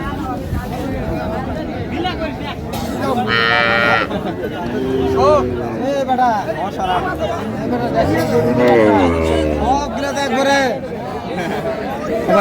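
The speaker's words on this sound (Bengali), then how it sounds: "গাভী বাছুর আমরা দেখছিলাম এখানে" Dairy cows and calves at a cattle market moo repeatedly over several seconds, loud and close, amid steady crowd chatter and people talking nearby.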